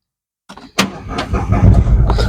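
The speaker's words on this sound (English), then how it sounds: "I'm just going to start the car up." A car engine cranks and fires up after a short silence, settling into a steady idle rumble; the car has an engine fault with warning lights on.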